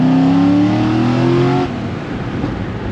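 A Nissan S13 convertible with a 1.5JZ engine and Fisch Racing CD009 adapter kit accelerates hard, its loud engine note climbing steadily in pitch before dropping at a gear change into a rougher, lower drone.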